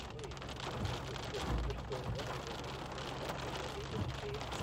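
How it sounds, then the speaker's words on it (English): Steady heavy rain pours down during an intense storm system, a dense continuous hiss of drops on a surface with a faint low rumble underneath. "Looks like it should be done raining in just a minute for at least a couple of minutes."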